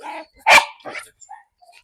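One sharp, loud bark from a leash-reactive dog close by, with a few quieter brief noises before and after it.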